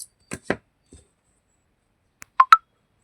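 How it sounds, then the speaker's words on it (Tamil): Crochet thread being cut in small snips: a few quick, soft clicks close by, then near silence and two sharper snips at the end. "இந்த த்ரெட்டை கட் பண்ணி விட்டுக்கலாம்"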